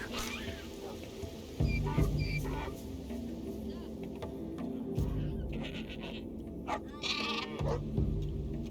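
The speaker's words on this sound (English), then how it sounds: "A lot of shearing sheep." Repeated sheep bleating in the video game Dawn of Man, moderately loud, with a low steady hum and scattered game sounds around them.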